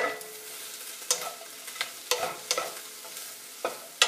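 Spatula scrapes and stirs sweet potato pad thai in a pan, a series of sharp clacks and scuffs every half second or so over a faint steady background, close and fairly quiet, no voices.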